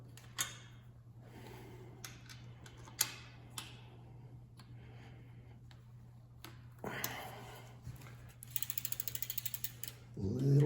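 A ratchet wrench clicks in quick bursts while tightening a bolt on a Schwinn bicycle, faint and close, with scattered taps and clanks, a steady low hum underneath, and a rapid run of clicks near the end.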